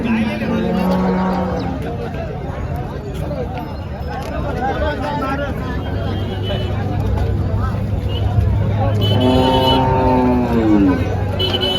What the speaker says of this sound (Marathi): चांगले दूध असे तुम्हाला गाई वगैरे पाहायला भेटतील मित्रांनो या बाजारामध्ये